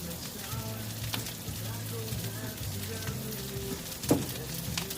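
Food sizzling and being stirred on a Blackstone griddle while steak and lobster cook, a steady near frying hiss with metal spatula scrapes and one sharp clank, someone talking over it.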